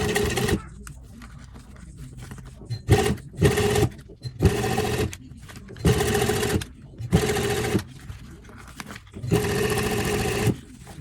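A sewing machine stitches in the ditch along a folded-over binding on a leather cuff, running in short repeated bursts of steady whirring with brief pauses between them.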